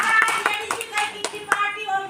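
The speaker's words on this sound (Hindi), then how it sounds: "ताली बजाइए, सच बोल रहे हैं।" Applause from a workshop audience of parents at a school, a burst of hand claps that rises and thins over about two seconds, with a voice sounding faintly underneath.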